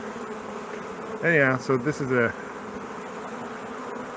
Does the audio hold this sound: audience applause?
no